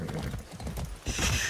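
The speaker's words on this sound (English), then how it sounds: "Be nice, horse." Horse hooves clip-clop in Far Cry 6, a quick, dense patter of hoofbeats close by, with a louder rustling swell near the end.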